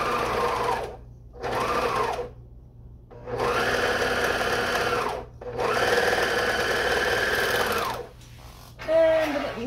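A serger stitches a seam on a cami in bursts: two short runs, then two longer steady whirring passes with brief pauses between, close and loud, ending with a few quick snips or thread sounds.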